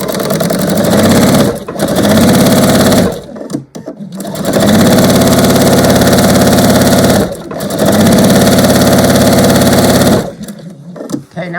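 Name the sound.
sewing machine stitching fabric right sides together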